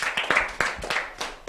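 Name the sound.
applause, clapping in church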